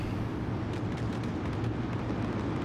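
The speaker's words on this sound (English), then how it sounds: "You see the fireworks in the air." Fireworks explode over a dirt race track at a UMP racing event, a dense, continuous rumble of booms and crackles rolling on throughout.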